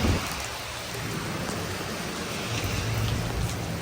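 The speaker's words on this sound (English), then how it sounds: "in the downpour." Heavy rain pours down steadily, a dense continuous hiss of water drumming on surfaces, with a faint low rumble underneath.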